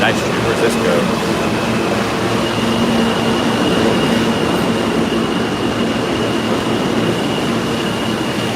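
A New York City subway train rumbles steadily at a station platform, a continuous roar with a faint high whine throughout and no distinct breaks.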